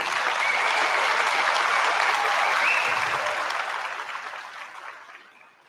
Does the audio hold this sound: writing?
no